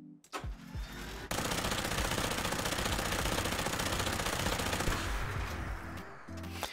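Heavy energy weapon from a Fallout 4 mod fires a sustained, very rapid burst with crackling Tesla arcs, loud and continuous for about four seconds after a short start, then tapering off.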